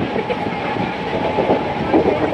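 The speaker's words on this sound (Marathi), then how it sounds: "यावेळेला तरी आम्ही सक्सेसफुली चढलो आहे ट्रेनमध्ये" A fast passenger train, heard from inside a coach, runs with a loud, steady rumble and a faint rhythmic wheel clatter that continues without pause.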